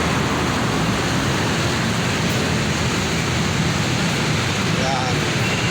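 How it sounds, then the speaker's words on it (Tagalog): Strong wind roars across an overpass in San Pedro, Laguna, a loud, unbroken rushing buffet that fills the whole clip without pause. "Lakas na ng hangin mga kasangkay."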